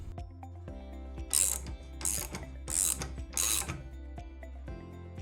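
A ratchet with a 19mm socket tightens an axle lock nut on a gear drive assembly, giving four quick bursts of crisp clicking between quieter pauses, close and alone.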